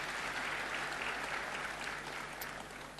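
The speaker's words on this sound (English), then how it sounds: "Another round of applause, please." Audience at a University of Limpopo event claps for a speaker, a dense, sustained roar of many hands that holds steady and fades slightly toward the end.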